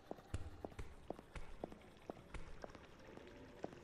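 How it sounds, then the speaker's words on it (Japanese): Footsteps in the psychological horror adventure game Burnhouse Lane, a run of quick, sharp irregular steps at moderate distance, fairly quiet over a faint background. "向こうから足音。"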